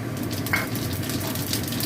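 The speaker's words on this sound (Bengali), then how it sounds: "এই তেলেতেই আমি জিরেটা ফোড়ন দিয়ে দিলাম" Cumin seeds tempering in hot oil left over from frying onions, a soft continuous sizzle with faint crackle, close and fairly quiet, with no voices.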